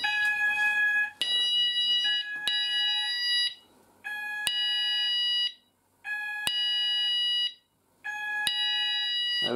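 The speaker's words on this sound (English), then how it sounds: "I'm going to show you guys the tone of the XPander sounder base." An Apollo XPander sounder base fire alarm sounds a loud, piercing electronic tone that repeats in regular bursts with short silent gaps between them.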